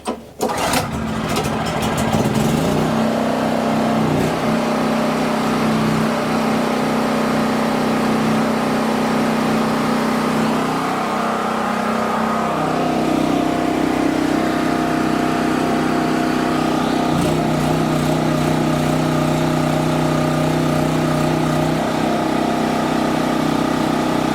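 A Champion generator's small engine running steadily on full choke, loud and close, with a sputtering start before settling into a continuous mid-pitched drone that shifts tone slightly partway through.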